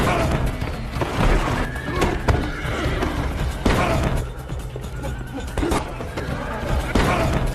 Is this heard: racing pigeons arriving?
no